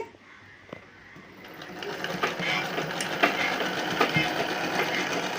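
A sewing machine stitches a fall onto a saree by a tailor, its motor whirring steadily and growing louder after a quiet start, with faint clicks of the mechanism over the run.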